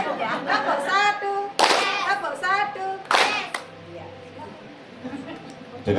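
Single crisp bursts of unison clapping from an audience at a Lumajang talk show, two quick claps separated by a speaker's talking, then a quieter stretch with faint background murmur.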